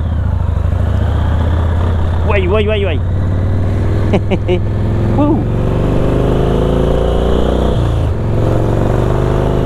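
A ZERO Engineering Type 5 motorcycle pulls away and accelerates, its engine loud and close with a steady low drone, while someone speaks a few short words over it.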